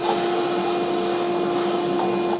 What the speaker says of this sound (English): I'm gonna vacuum up all these shavings now.